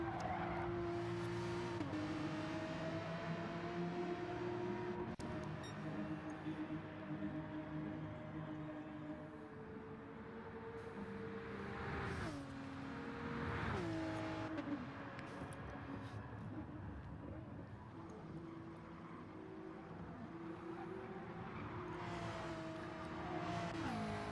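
Race cars lap the Barcelona circuit in Gran Turismo 7, with engines steadily droning and shifting pitch through gear changes and corners, plus occasional tire squeal, continuous throughout at moderate level.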